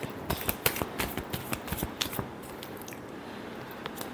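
A deck of tarot cards being shuffled by hand, a quick run of close, crisp riffling flicks and snaps that thins out into occasional soft card sounds.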